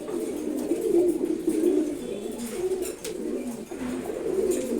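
A male Chila pigeon coos in a low, throaty, repeated rolling call, close and steady for the whole stretch, with no talk.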